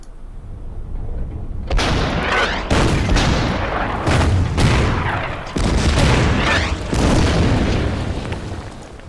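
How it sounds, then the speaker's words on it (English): Artillery barrage against tanks in Order of Battle: Winter War's Suomussalmi battle, a series of heavy booms and blasts, loud and close, repeating every second or two with long rumbling tails and no talk over them. "And then use the artillery on the tanks."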